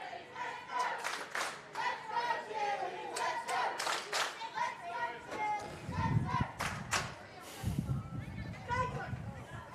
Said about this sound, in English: the Australian crowd trying to help their team